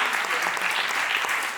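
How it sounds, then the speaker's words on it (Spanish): A steady wash of audience applause fills a seminar hall as a guest is welcomed to speak at a talk on spirituality and older adults, dense, even clapping without a break. "un aplauso"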